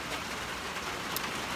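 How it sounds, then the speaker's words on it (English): Heavy rain pours steadily on a fall day in Maine, a dense, even hiss of drops filling the whole moment with no break and no voices. "It's pouring today, which is nice because it's the first rain we've had in a while."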